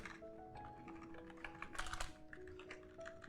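Steady computer keyboard typing while PLC program commands are entered, a close run of light, even key clicks with a few louder taps, no voices.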